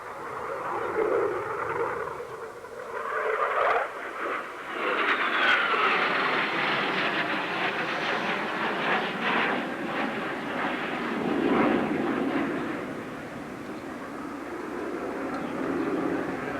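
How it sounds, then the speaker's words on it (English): An F-16 fighter jet at an airshow makes a low-level pass past show center while performing a four-point roll, its engine roar swelling and fading over a public-address announcer who keeps talking. "Major Olin will demonstrate the crisp handling characteristics of the F-16 by performing a 4-point roll as he flies past show center"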